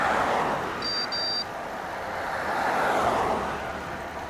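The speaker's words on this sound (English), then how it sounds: "You can see and hear both units triggering when cars approach." Wahoo TRACKR and Garmin Varia RTL515 bike radars chirp a pair of short, high alert beeps early on as cars approach, over steady roadway and wind noise that fills the rest.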